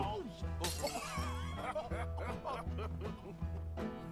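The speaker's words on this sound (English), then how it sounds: "Little broken glass?" Glass breaks with one sharp crash in Red Dead Redemption, over a steady bass music loop, with someone talking and laughing through the clip.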